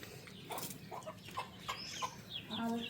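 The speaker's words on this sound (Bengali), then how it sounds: "এই যে এইটা হচ্ছে গিয়া মুরগির মা, এই মুরগির এগুলা বাচ্চা সব।" Mother hen with her chicks, short soft clucks and a few thin cheeps scattered near at hand over low background noise, quiet and irregular.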